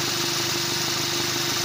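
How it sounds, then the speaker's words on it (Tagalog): A Ford car's air-conditioning compressor runs with the engine idling, giving a steady close-up mechanical hum and rumble with a constant tone. "So makikita natin dito ay gumagana na yung compressor."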